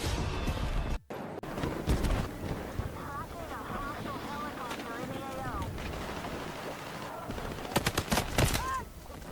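Rapid, dense gunfire from a shooter video game, full-auto bursts crackling continuously with mixed effects and game voices over a steady, noisy background.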